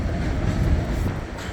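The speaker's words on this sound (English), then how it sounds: "The W train right there is leaving." An NYC subway W train leaving Astoria Ditmars Blvd station, a low rumbling roll of rail cars, steady and fairly loud over a brief moment, with no speech.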